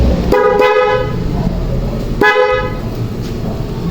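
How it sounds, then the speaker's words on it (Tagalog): Two short, loud car horn honks, close by, separated by about two seconds over a steady background hum. "passing with horn."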